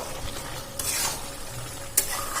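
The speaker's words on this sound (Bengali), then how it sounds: "এটা দিয়ে ভালো করে নাড়াচাড়া করে নেব" A spoon stirs roasted spice mix into a simmering vegetarian potato and papaya curry in a pan, with scraping strokes over a close, steady sizzle and a sharp clack near the end.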